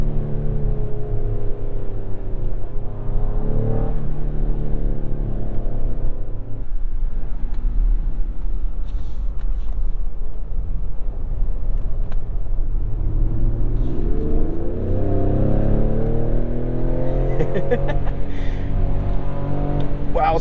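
A 2021 Ford Explorer ST in sport mode, its engine note rising and falling through rev-matched downshifts, with steady low cabin rumble and road noise throughout and a climbing rev sweep toward the end.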